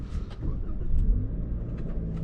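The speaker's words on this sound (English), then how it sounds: "let us set off in the Corolla first" A 2026 Toyota Corolla sets off, its engine rumbling low and steady from inside the cabin with a slight rise in revs as it pulls away.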